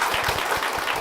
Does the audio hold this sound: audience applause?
yes